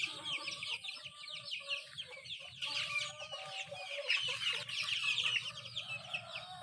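Rhode Island chickens cluck and chatter in a flock, many overlapping calls close by at moderate level, steady throughout, no talking.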